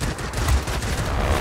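Aircraft cannons from a Spitfire in the World of Warplanes combat flight game, firing a dense, rapid burst of rattling shots that continues through the whole short stretch.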